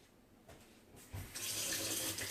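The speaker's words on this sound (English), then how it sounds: "So let me get some water out of our tap. I'm gonna turn the hot water on" Hot water running from a kitchen tap into a cup, starting as a faint trickle and swelling into a steady, loud hiss of flow partway through.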